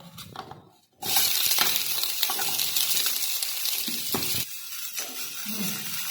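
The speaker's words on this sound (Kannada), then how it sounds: "ಅದು ಎಣ್ಣೆ ಕಾದ್ಮೇಲೆ ಅದ್ರಾಗ ಮೊದಲು ಈರುಳ್ಳಿ ಹಾಕೋಣ್ರಿ" Onions dropped into hot oil in a kadai for a dhaba-style cashew masala set off a loud, steady sizzle and crackle that starts abruptly and continues with occasional stirring clinks.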